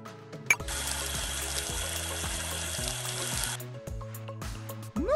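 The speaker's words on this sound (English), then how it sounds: "Move the hose around to rinse Tango off." Hose water sprays steadily in a cartoon Sesame Street puppy-care game as Tango the puppy is rinsed, a bright continuous hiss over a cheerful plinking music loop, ending with a short rising chime.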